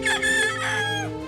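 A rooster crows once, loud and close, a single long drawn-out call that rises and then trails off.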